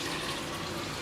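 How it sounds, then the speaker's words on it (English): Tap water pouring steadily into a pink cup held over a kitchen sink, a close, continuous rushing splash with no break. "Wow, that's a lot of water."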